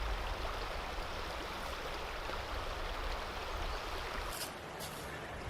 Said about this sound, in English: this is what it sounds like with water behind me and the Rode mic